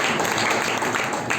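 A congregation claps during a Resurrection Sunday church service, a dense, continuous wash of many hands clapping together, loud and close, with no talk over it.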